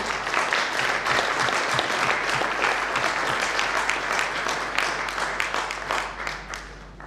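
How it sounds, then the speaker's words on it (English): A seminar audience at a chamber of commerce event applauds the speaker, steady clapping from many hands over a low hum that keeps going for several seconds before tapering off at the end. "a big round of applause for Pallab Bhai."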